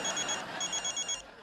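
A telephone rings indoors in a home, with short trilling electronic bursts in a quick repeating pattern, moderately loud with a brief pause between groups and no voices.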